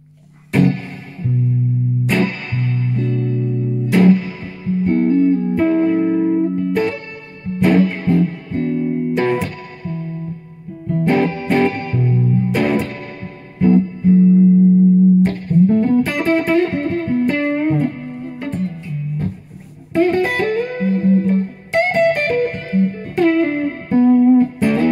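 H44 replica electric guitar with open-back tuners, modeled on an old Harmony or Silvertone, plays a loud solo passage of picked notes and chords with pauses between phrases, mildly driven tone, no talking.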